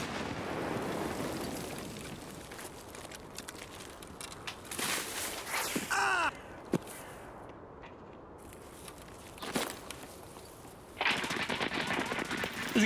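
Automatic and single gunshots crack out in the Escape From Tarkov shooter game, some as bursts and some as isolated sharp reports, mostly at mid to far distance. Game ambience and brief footstep noise sit underneath, with faint voices at points.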